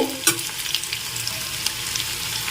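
Masala spice paste sautéing in a pan for egg curry, a loud, continuous close sizzle with occasional stirring scrapes, no voices.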